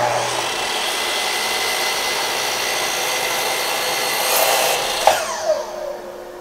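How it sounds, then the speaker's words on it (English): A sliding compound miter saw runs steadily through wood at close range, a continuous broadband whine holding for about five seconds before a brief rise and spin-down as the cut finishes, with no voices. "So I'll just take that over to the sliding compound miter saw and make those cuts."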